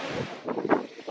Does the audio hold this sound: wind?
yes